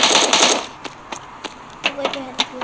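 Gunfire in the mobile shooter game Modern Ops, a dense burst of rapid shots up front followed by several sparse single cracks, fairly close and sharp.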